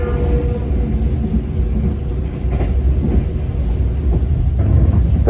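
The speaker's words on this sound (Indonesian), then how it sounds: "Berpapasan dengan kereta api Argo Merbabu dari stasiun Gambir tujuan akhir stasiun Semarang Tawang Bank Jateng ya." Argo Merbabu passenger train, bound from Gambir to Semarang Tawang, passing alongside as a steady, loud rumble with faint rail clatter, heard from inside another moving train.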